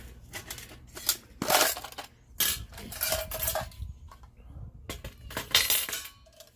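A metal military-issue canteen cup being handled, giving several bursts of bright clinking and clattering metal with short quiet gaps between them, close and fairly loud.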